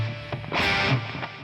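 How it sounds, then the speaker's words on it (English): An electric guitar plays a short phrase through a ping-pong delay, its notes echoing and repeating, spreading out into a spacious delay tail. "Very nice, like, spatial delay."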